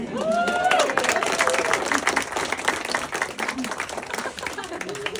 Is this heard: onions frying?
no